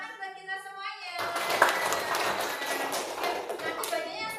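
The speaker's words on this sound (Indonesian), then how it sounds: "Oke, tepuk tangan buat kita semuanya" A primary class of fourth-grade pupils claps together in an Islamic religious lesson, a dense burst of hand claps that starts abruptly after a sung line and continues under speech.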